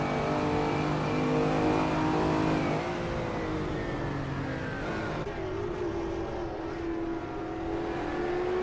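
Racing cars, including a 1997 Lamborghini Diablo, roar off the start line in a racing video game, with a continuous loud engine drone whose pitch slides and shifts as the cars accelerate together.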